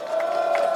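Crowd at an outdoor political rally in Sejong for a Korean presidential candidate, cheering and whooping in a brief, steady burst of massed voices.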